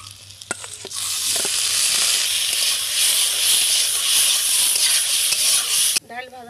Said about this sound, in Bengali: এবার আমি ধুয়ে রাখা ডালটা দিয়ে দেবো।